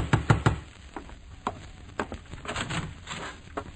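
Someone pounds on a wooden door in a radio drama, three sharp quick knocks at the start followed by scattered heavier thuds and softer taps.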